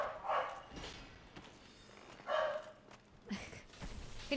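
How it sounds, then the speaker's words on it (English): A female dog barks outside in a few separate short bursts, moderately distant and fairly faint. "Can you guys hear her barking?"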